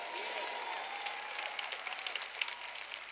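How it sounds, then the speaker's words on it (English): A church congregation bursts into sustained applause and cheering, dense clapping from a large crowd filling the room and staying loud throughout. "how many of you know we can shout and clap and cheer in church?"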